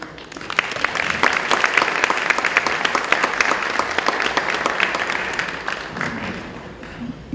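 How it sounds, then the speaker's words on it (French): An audience applauds warmly as a priest is welcomed at a Haitian event, with dense, steady clapping that fills the whole stretch and then tapers slightly at the end. "aidez-nous chaudement à applaudir le Père Émile Cyprien de Spring Valley."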